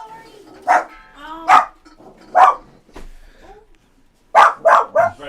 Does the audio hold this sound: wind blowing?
no